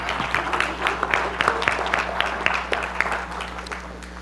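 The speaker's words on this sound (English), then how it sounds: "Can we get another round of applause for our moms?" A church congregation applauds for mothers on Mother's Day, a few seconds of scattered, moderately loud clapping over a steady low hum.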